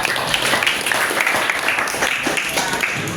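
A room of students claps for a classmate, with steady, dense applause of many hands, moderately loud and even for several seconds.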